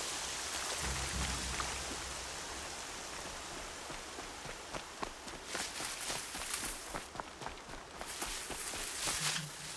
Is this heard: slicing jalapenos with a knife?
no